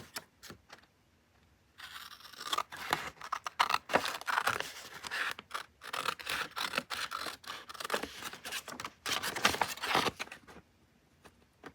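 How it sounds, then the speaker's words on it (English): Scissors snipping through thin scrapbook paper, a steady run of close, crisp cuts and rustles, quiet and without talk, pausing briefly near the start and end. "I'll cut it out."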